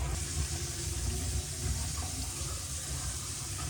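Water drains from a Kohler Memoirs bathroom lavatory sink fitted with a spread-set faucet, a steady close gurgling rush that holds at an even level throughout, with no voices.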